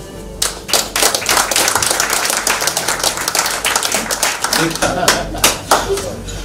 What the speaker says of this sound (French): ça mérite vraiment des applaudissements de tous ceux qui sont ici.